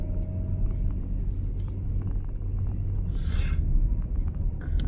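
Steady low engine rumble and road noise from inside a moving car, close and continuous, with a brief brighter whoosh about midway.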